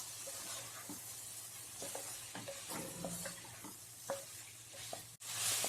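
Chopped french beans stirred and fried with masala spices in a pan, a low steady sizzle with soft scraping stirs and clinks, ending in a sharp knock and a louder burst of hiss.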